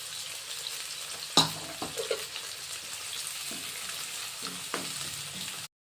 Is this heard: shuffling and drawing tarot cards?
no